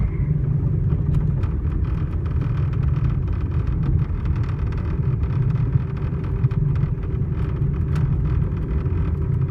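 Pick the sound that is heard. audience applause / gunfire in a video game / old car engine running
old car engine running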